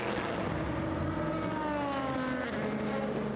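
A Le Mans prototype race car accelerates away from a pit stop at the 2017 24 Hours of Le Mans, its engine note rising and shifting through gears, fairly loud and continuous.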